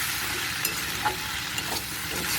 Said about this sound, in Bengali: এবারে একটু নাড়াচাড়া করে নেব খুব ভালোভাবে